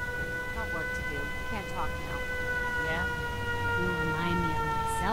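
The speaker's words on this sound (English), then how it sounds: "So when my city is attacked, and the siren is activated" A settlement siren in the video game Fallout 4 wails with a steady, layered electronic tone that holds loud through the whole stretch, while someone talks over it.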